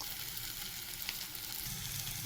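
Steady crackling sizzle of fritters frying in hot oil, close and continuous with no voices.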